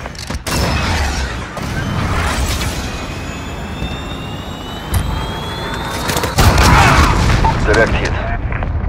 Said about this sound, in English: Cruise missile away.